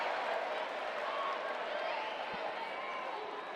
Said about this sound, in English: you can hear the excitement in the field house as she gets her 6th kill of the night